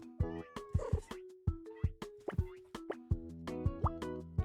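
Cartoonish cat meows in an indie video game, a few short mewing calls amid regular plopping game sound effects with a bright melodic tone, loud and close.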